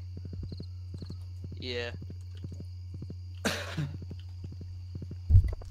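In Stardew Valley, a horse's hooves clip-clop in a steady, quick rhythm under the game's background music. A short whinny and a brief burst of noise cut in, and someone says a single word.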